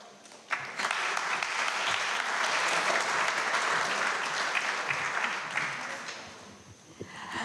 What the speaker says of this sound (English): Let's show our appreciation with a big round of applause, please.